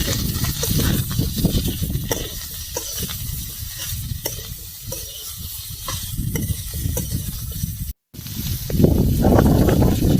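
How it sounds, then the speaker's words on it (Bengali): Pre-fried jackfruit sizzling and hissing in a pan while it is stirred and sautéed. The frying is loud and steady and carries through on its own, with a brief break near the end. "ভেজে রাখা এঁচড়টা দিয়ে দেবো, দিয়ে ভালো করে একটু কষাবো।"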